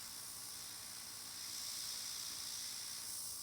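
An airbrush sprays Airnails nail paint through a stencil onto nails, making a faint, steady, even hiss that swells slightly midway and holds without pause.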